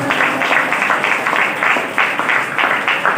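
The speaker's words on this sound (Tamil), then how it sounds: "கைத்தட்டி கர்த்தரை மகிமைப்படுத்துங்க" A congregation at a Tamil Sunday church service claps hands in praise. Loud, fairly rhythmic group clapping with regular accented beats sounds near, with no voices over it.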